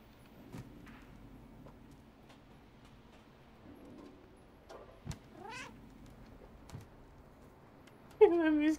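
Cat meowing in the video game Stray: a couple of distinct, rising meows stand out near the end over a quiet game ambience, with a person talking faintly beforehand.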